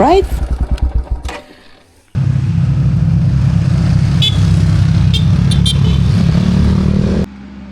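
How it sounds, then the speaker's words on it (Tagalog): Old Mitsubishi 4x4 vehicles on a mountain road: after a few opening honks, a loud, steady engine drone runs up close for several seconds before cutting off, with voices at the start. "Ito yung mga sasakyan dito sa Bundok Delica."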